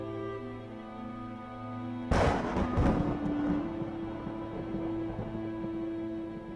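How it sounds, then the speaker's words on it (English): Deep thunder rumbling, a broad loud crash arriving suddenly after a quiet tonal music bed, then a long low roll fading slowly under the continuing music. "It's thunder."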